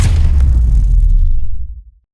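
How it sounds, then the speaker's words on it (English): An AI-generated layered impact sound effect hits as a heavy, loud boom with deep rumble and crackle, sustaining for over a second before decaying away to silence. "Let me play you each layer I used to create this impact sound"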